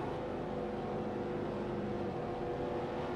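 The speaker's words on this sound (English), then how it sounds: "Someone just definitely sounds like they're revving the nuts off it." Race car engine noise from the V8 Thunder racing game at Talladega forms a faint, continuous broadband roar and drone, with no clear breaks and no speech.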